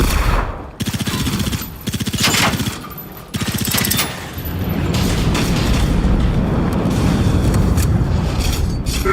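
In the Generation Zero video game, several loud bursts of rapid automatic gunfire break off, then a heavy explosion erupts into a sustained roaring rumble that fills the rest of the clip.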